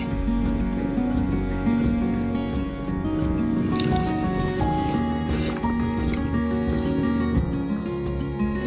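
Water runs steadily from a bathroom tap with close, continuous dripping and splashing, while a kitten plays in the stream; no voices are heard.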